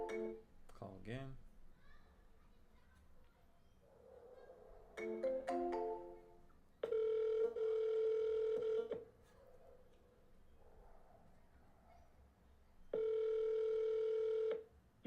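A phone call being placed: short dialing beeps give way to two long, loud ringback tones separated by a pause, with a voice speaking briefly at the start and in between.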